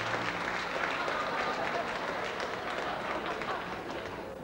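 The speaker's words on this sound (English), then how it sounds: "Nice big round of applause for George Roble, ladies and gentlemen" Audience applause for a comedian at a 1970s club show, a dense steady wash of clapping throughout, fairly loud and near.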